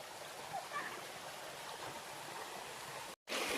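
A river flows beside a hiking trail on Mt. Tanawan, a steady broadband rush of water close by that fills the clip, with a brief dropout near the end.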